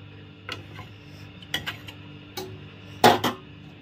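Cooked goat liver and tender jackfruit curry stirred in a pot after the gas is turned off, a handful of sharp spoon-on-metal scrapes and clinks spaced irregularly over a quiet background, the loudest near the end.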